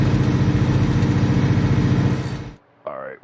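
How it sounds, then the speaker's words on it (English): A truck engine in the video game Alaskan Road Truckers purrs at a steady pulsing idle, loud and close, before cutting off abruptly; a brief voice follows at the end. "the purr of the engine's pretty nice"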